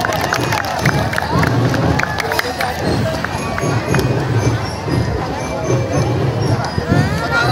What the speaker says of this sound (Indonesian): Beri tepuk tangan yang meriah untuk Paskibraka Kapanewon Kretek.